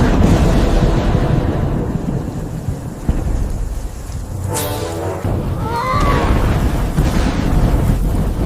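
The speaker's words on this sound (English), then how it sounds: "The storm!" A thunderstorm on a mountain: rolling thunder rumbles over a steady hiss of rain, with a sharp crack near the middle and a brief rising cry soon after.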